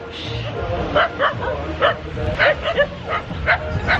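Several dogs near a bar-restaurant in Canggu yipping and barking in short irregular bursts, fairly close, over faint background voices.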